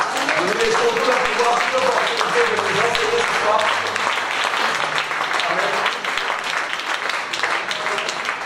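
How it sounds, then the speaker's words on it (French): Applause and cheering from a church conference audience, a loud continuous crowd roar that holds steady throughout, with voices mixed into the ovation. "Alors on fait une grande acclamation pour la parole de Dieu"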